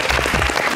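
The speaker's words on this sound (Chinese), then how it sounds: "掌声欢迎" A studio audience on a variety show gives a brief, dense burst of clapping, loud and close, lasting under a second.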